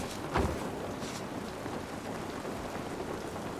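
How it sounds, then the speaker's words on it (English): Steady rain falling in The Last of Us Part 2, an even hiss of drops with a soft thump early on, fairly faint and with no voices. "This rain ain't gonna do us any good."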